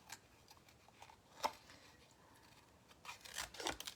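Scissors fussy cutting a paper pop-up card make faint, scattered snips and crisp paper rustles, quiet and close, with a small cluster of cuts near the end.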